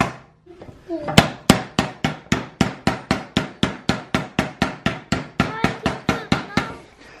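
Steady series of about twenty sharp hammer blows driving fret wire into the slotted fretboard of a 6-string bass, evenly spaced, close and loud, each strike ringing briefly.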